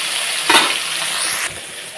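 Bata fish sizzle steadily in a hot pan, with a brief louder burst of spitting oil near the middle and a slight drop in intensity toward the end.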